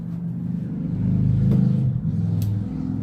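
Motorcycles pass in the background outdoors, a low engine rumble that swells and revs through the middle of the moment and then eases, steady and moderately loud with no talking.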